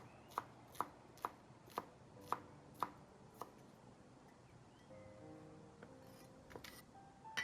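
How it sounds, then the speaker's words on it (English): A knife chops scallions on a cutting board in seven crisp, evenly spaced strokes, close and quiet, followed by soft kitchen clatter. "Chop 2 tablespoons of scallion rinds."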